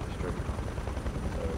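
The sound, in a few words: attack helicopter in video game Battlefield Play4Free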